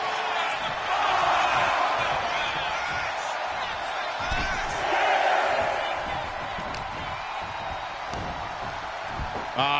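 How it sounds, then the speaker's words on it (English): Large capacity arena crowd in a WWE 2K25 wrestling match, a continuous roaring cheer that swells twice, loud and enveloping, with commentary voices running over it. "This capacity crowd is sending him love, and he's sending it right back."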